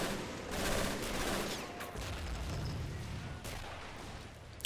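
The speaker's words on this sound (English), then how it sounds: "Mortar still dropping down." Mortar fire in the Men of War: Assault WWII game during a siege on a German hill fort, with heavy booming impacts over a continuous rumble of distant gunfire and explosions.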